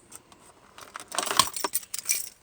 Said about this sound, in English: If I get my keys.